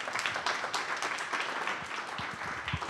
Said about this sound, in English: Another round of applause for Javier.